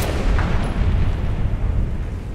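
A deep artillery blast booms in the Battlefield: Bad Company 2 video game, a heavy low-frequency explosion with a rolling rumble that lingers and decays for a couple of seconds, no speech over it.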